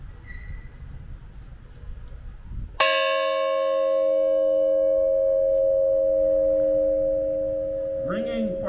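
At a Fourth of July ceremony, a bell is struck once with a loud, clear clang that rings out in a long sustained tone. Murmuring crowd noise comes before the strike, and a voice begins speaking near the end.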